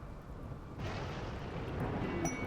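Thunder from a dry thunderstorm in the video game Rimworld, a low broadband rumble that jumps in loudness under a second in and keeps rolling steadily, with no voices over it.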